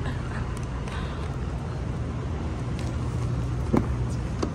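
A booked Uber car in Miami pulls up near the street, its low engine rumble and road noise steady and fairly close, with a brief bump near the end and no talking.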